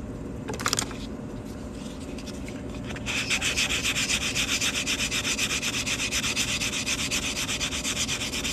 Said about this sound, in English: Now we're just gonna sand that cut edge.